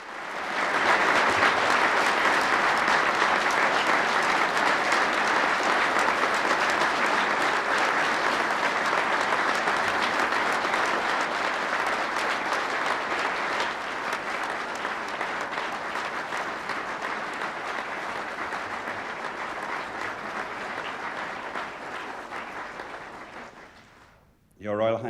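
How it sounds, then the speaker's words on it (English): Loud, sustained applause from a large crowd, a dense roar of clapping lasting over twenty seconds before cutting off abruptly. "And they burst into thunderous applause."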